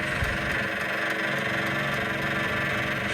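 The engine of a Doosan DX225 excavator runs at a steady idle, a close, loud, even mechanical drone with a constant vibrating rumble.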